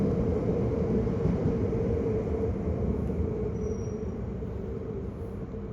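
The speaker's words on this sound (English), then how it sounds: "it's a good spot to look at trains passing by" Steady rumbling of trains passing on a viaduct near Rotterdam Central Station, a continuous mid-distance drone that eases slightly toward the end.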